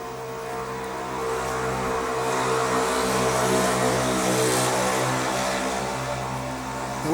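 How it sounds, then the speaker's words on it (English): An extremely loud motorcycle engine revs steadily and close by, rising in intensity toward the middle and easing off near the end, heard alone without talk. "It was an extremely loud motorcycle."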